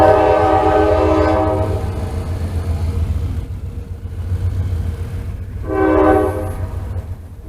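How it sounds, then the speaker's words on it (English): A train rumbles past loudly with a steady low roar, its horn blaring at the start and sounding again briefly near the end. "Here comes a train."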